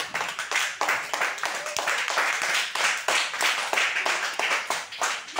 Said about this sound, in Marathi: क्लॅप फॉर कौशल. टाळ्यांचा आवाज कुठे गेला